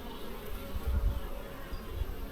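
Honey bees in a hive on the verge of swarming hum as a low, steady drone that swells and fades, close and fairly soft, with no talking.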